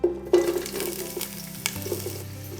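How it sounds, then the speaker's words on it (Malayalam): Four long-sliced onions hit a pan of hot oil with bay leaves and mace for Arabian chicken mandi, bursting into a loud sizzle that settles into steady frying with stirring scrapes. "സവാള ഇട്ടിട്ട് നമുക്ക് നല്ലോണം ഒന്ന് വഴറ്റിയെടുക്കണം."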